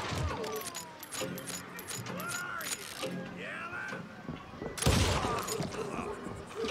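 Revolver gunfire in the Western shooter Call of Juarez Gunslinger: a single loud, sharp shot near the end stands out against a busy bed of mechanical clicks and game noise.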